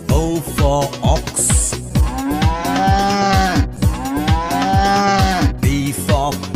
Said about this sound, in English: O for ox.